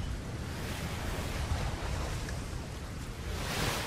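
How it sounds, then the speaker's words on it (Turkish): Ocean waves roll and surge steadily at sea in the video game ATLAS, forming a continuous broad wash of surf with a windy rush and no voices. "Dalgalar var onun için."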